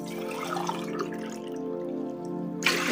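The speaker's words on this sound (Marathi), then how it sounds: "आणि अजून थोडंसं पाणी ओतू।" Water pours from a pot onto rice in a kitchen while papad batter is being made, a steady close splashing stream that runs on for nearly three seconds and ends with a brighter splash.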